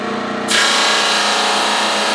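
A wood drum sander switches on abruptly and settles into a loud, steady whine and roar, running continuously without pause.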